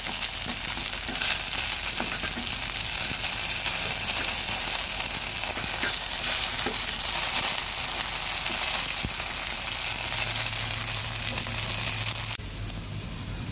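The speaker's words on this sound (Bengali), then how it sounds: "কলাগুলো ভাজা হয়ে গেছে, আমি হালকাই ভেজে নেব।" Raw green banana pieces fry lightly in a pan, giving a steady, fairly loud sizzle that holds evenly for about twelve seconds before dropping slightly quieter near the end.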